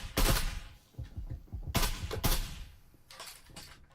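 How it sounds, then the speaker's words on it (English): Gunfire from shooters punching through walls in the VR tactical shooter Breachers, a burst of sharp shots then a second cluster after a pause and a few fainter reports near the end, loud and close with no talk. "Some early shots off here from the Restart side."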